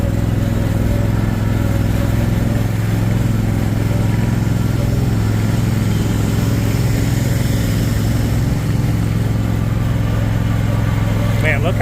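A sit-down riding mower's engine drones at a steady, loud idle close by, a constant mechanical hum throughout, with a voice speaking over it.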